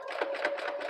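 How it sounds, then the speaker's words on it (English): A sewing machine runs steadily through fabric for a small pouch, its fast, even stitching hum continuous and close for the whole second with no pause. "I can't sew and talk at the same time."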